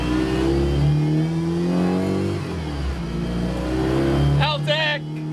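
Honda Civic EG with a B18 engine rolls down a driveway, its engine droning loud and steady with a rise in revs, while people talk and shout excitedly over it.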